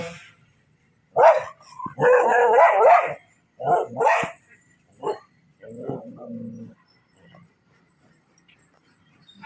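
Puppy in a village garden giving sharp, close barks and yips in a quick burst, mixed with people talking nearby.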